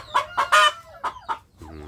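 A free-range village hen clucks while laying an egg, in a series of loud, close, harmonic calls, with short pauses between bursts and a faint low hum underneath.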